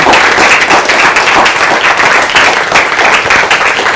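An audience at a live talk claps hands in steady, dense applause that fills the whole stretch at a fairly loud, even level, with no voices breaking through.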